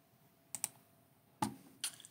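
Three separate mouse clicks made while downloading pages in the Canva design editor, with the first two close together and the third about a second later. They are sharp and close, with near silence between them.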